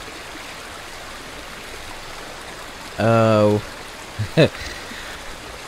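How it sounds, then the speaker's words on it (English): A waterfall in Ghost of Tsushima rushes as a steady broadband wash of water. A man's brief vocal sound and a short exclamation cut through it partway. "We by the waterfall."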